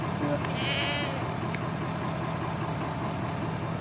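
Goats bleating near the start, a brief wavering cry over steady low rumble, with a voice in the background.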